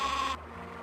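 Sheep bleat from the Spy Fox 2 video game, one short sustained call of about a third of a second at moderate level, cutting off abruptly into low background hum.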